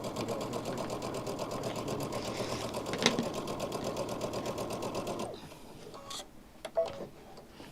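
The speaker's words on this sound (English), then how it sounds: "I'll take the same piece of fabric over to the machine and sew these." A sewing machine stitches fabric in a fast, even mechanical chatter for about five seconds, then stops, leaving faint handling clicks and rustles; quiet and close, no talk.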